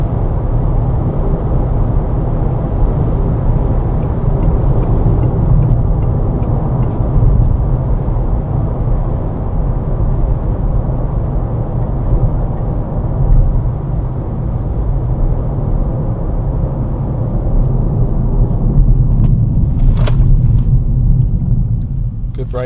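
A Peugeot e-208 GT electric car drives through town, giving a steady low road rumble and tyre noise throughout, with a brief sharper click near the end.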